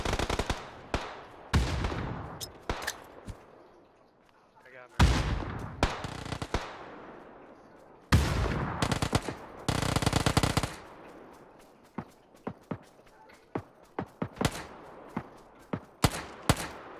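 Rapid bursts of video game gunfire crack out in clusters, loud and close, with short pauses between volleys and a few single shots near the end.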